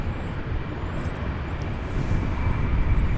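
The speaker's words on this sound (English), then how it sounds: "This is a 777-300ER." A Boeing 777-300ER airliner at DFW Airport gives a steady, broad jet roar that swells slightly louder toward the end, heard from a moderate distance with faint high whistles and no talk.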